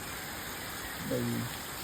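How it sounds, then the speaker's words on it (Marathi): Heavy unseasonal rain pours down in a village, a steady, dense hiss throughout, with a brief voice murmuring partway through. "आवाज पण तुम्हाला येत असेल पाऊस पडतोय खतरनाक पाऊस"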